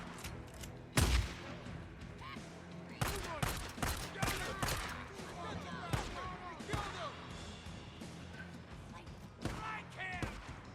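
Rifle gunfire in the zombie-horde shooter Days Gone, with a heavy blast followed by a string of irregular sharp shots and echoing cracks amid game combat noise.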